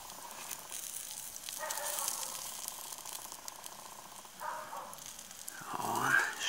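Pork shashlik sizzles and crackles faintly over hot coals outdoors, a soft steady hiss with occasional louder pops.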